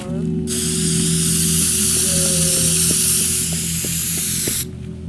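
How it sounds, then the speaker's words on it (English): A spray can in the video game Teardown hisses in one loud, continuous burst lasting about four seconds, a broad steady spray with faint mechanical clicks and hum underneath. "So, let me equip my spray can."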